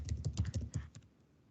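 Rapid clicking keystrokes on a computer keyboard while typing into a text box, a dense burst of taps for about a second that then fades to quiet.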